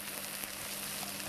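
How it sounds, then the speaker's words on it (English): Marinated chicken sizzles on the hot plates of a microwave snack maker, a steady, quiet crackling hiss that runs without a break for about a second. "So that was marinated chicken. Oh, I don't know whether you can hear this. Sizzling."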